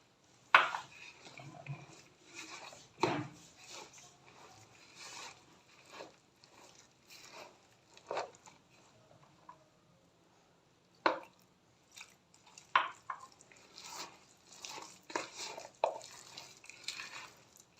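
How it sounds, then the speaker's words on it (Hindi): Gram flour batter for potato pakoras being mixed with water by hand or spoon in a bowl, giving soft wet squelching and stirring sounds in irregular bursts, close and fairly quiet, with occasional clinks and pauses between. "थोड़ा थोड़ा पानी डालकर हम इसको मिक्स कर लेंगे।"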